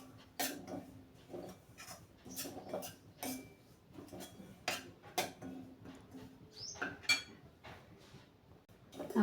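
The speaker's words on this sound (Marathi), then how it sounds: "रवा भाजून घेऊया. रवा छान लालसर होईपर्यंत भाजायचा आहे." Semolina (rava) being dry-roasted in a pan for sheera, with light scraping and clinking of a spatula against the pan in uneven strokes, close and fairly quiet, no talking.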